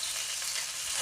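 Duck pieces frying in oil in a wok give a steady, close, bright sizzle that fills the short moment without pause, with no voices over it.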